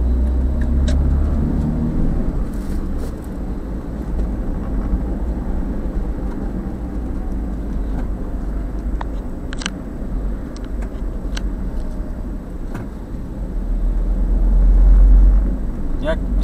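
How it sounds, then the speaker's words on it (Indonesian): Busy morning road traffic, heard as a steady, loud roar of passing vehicles and engine rumble close by, with faint clicks on top and no clear talk. "Suasana lalu lintas juga udah rame, banyak kendaraan, pagi-pagi mau beraktivitas."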